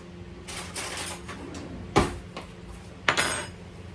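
Clattering of dishes and cutlery while a small spoon is fished out in a kitchen, with two sharp clinks standing out over a steady background of rummaging.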